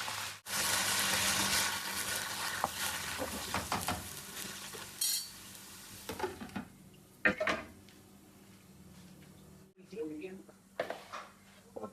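Minced meat keema sizzling in a pan in a home kitchen, a bright frying hiss at the start that fades, followed by scattered scraping, clinks and stirring knocks, with a person speaking over it.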